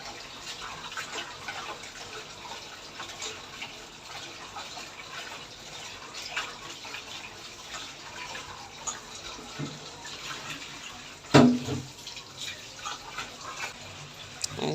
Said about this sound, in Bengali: এখন আবার একটু লবণ দিয়ে ধুয়ে নিচ্ছি।